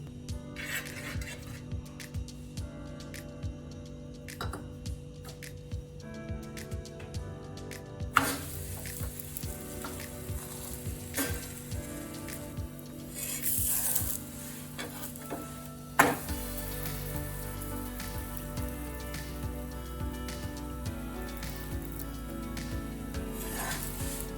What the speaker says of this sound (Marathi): तेल टाकून भाजून घ्यायचा दोन्ही दोन्ही बाजूने छान असा तांबूस रंगावर भाजून घ्यायचा